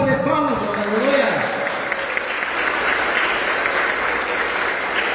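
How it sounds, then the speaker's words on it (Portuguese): A church congregation applauds during a worship service, dense steady clapping that rises as a voice fades out at the start and continues evenly to the end. "Uma salva de palmas"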